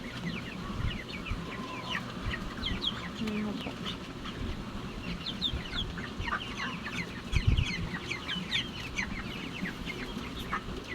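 Many chickens cluck and chatter continuously at moderate distance, a busy flock murmuring with occasional louder squawks and a brief knock.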